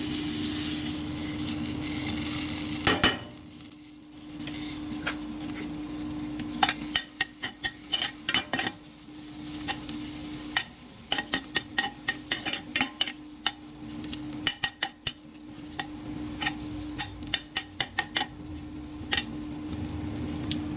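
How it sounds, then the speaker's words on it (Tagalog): Butter melts and is stirred in a pan, making a soft continuous sizzle with a steady hum. A spoon scrapes and clicks against the pan in repeated sharp taps through most of the stretch, with no voices. "magtunaw tayo ng butter"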